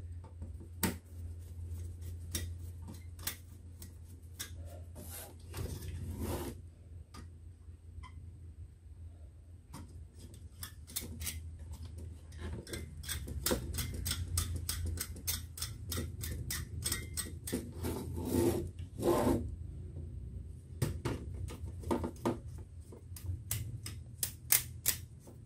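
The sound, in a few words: screwing motherboard screws in a computer case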